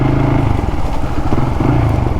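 A Quadzilla XLC 500 quad bike engine runs steadily and loud up close, a continuous throbbing motor drone with no pauses.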